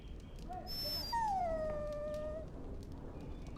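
A dog whimpers in Dragon Age: Origins, a single drawn-out, high whining cry that rises and slowly falls over about two seconds, close and clear above a low ambient game background.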